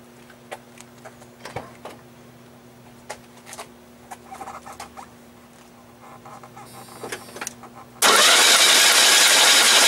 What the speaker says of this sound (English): So let me just crank it up.